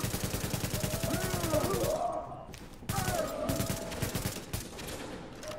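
Gunfire in the Tom Clancy's The Division video game, rapid automatic bursts and scattered shots crackling through a loud firefight, with a short lull before the shooting resumes.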